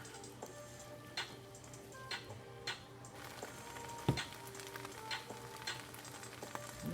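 Rice for shrimp fried rice, mixed with margarine and sautéed onions, sizzles steadily in a pan on high heat, with intermittent sharp ticks and scrapes from stirring and one louder clank, no voices.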